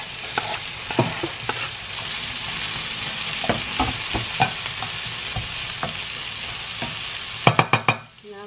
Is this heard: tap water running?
no